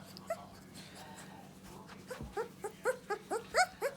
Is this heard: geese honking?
no